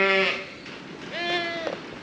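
A ewe bleats close by among her lambs, several harmonic calls, one long wavering cry followed by a shorter bleat over a quiet barn background.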